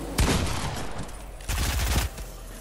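Fortnite gunfire: two loud, close bursts of rapid shots, each lasting under a second, separated by a short gap of quieter background noise.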